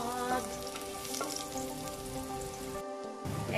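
Garlic frying hot in a stainless steel pan: a steady, close, dense sizzle that continues without pause, with no talking.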